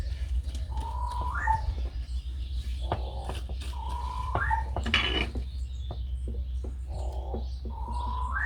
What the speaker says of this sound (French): Vous entendez derrière moi, c'est mes corbeaux, c'est mes volières des corbeaux.